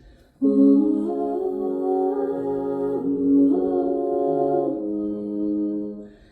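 TC Helicon Harmony M vocal harmonizer stacking a singer's voice into several sustained, layered harmonies that shift pitch together, a rich chordal choir-like vocal in a live concert setting, heard clearly without speech.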